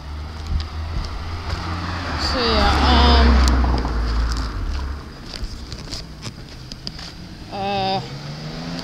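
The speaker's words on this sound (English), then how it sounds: "sorry about all the noise of the cars" Traffic rumbles past nearby, a car swelling and fading, with wind buffeting the microphone and a brief higher motor whine near the end.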